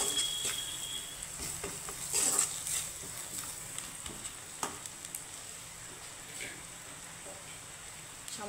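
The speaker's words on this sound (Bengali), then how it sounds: "সবগুলো মশলা আমি একটু মিক্স করে একটু হালকা ভেজে নেব।" Spices with salt and half a teaspoon of chilli powder lightly frying and being mixed in a pan, a faint steady sizzle with soft scraping stirs and a few brief clinks, quiet and close.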